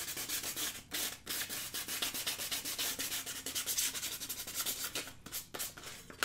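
Steady abrasive rubbing of sandpaper over an epoxy-coated glitter tumbler, scuffing away the glossy finish in quick back-and-forth strokes with a few brief pauses, close and continuous.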